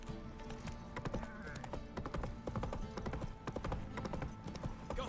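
Hooves of the horse Roach clip-clop steadily in The Witcher 3 video game, a continuous rhythmic trot running the whole time, mixed with game music and ambient sound, with a brief snort or whinny-like call.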